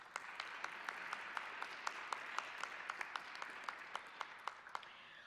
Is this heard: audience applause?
yes